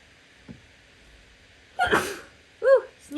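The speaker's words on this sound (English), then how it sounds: "sneezing. Excuse me." A single sharp sneeze bursts out close up after a quiet breath, followed by a short vocal sound.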